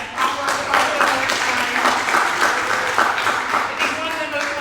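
Audience applause at an impact presentation, dense steady clapping from a crowd filling the room throughout, with no speech over it.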